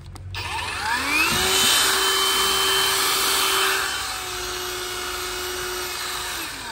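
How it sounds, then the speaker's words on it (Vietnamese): A battery-powered saw, a cordless chainsaw with a large 15 battery, whirs steadily at high speed after a sharp start, holding a loud, even tone throughout with no talking. "Thì cái cưa binh này các bạn à"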